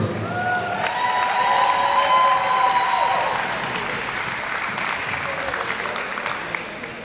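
A crowd applauds the 2019 Division IV champion Kearny High School Comets boys volleyball team, a loud sustained burst of clapping with some cheering and whistles, peaking early and easing off gradually.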